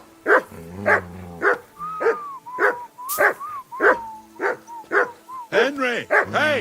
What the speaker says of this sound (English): Henry! Call off that damn dog before he wolfs.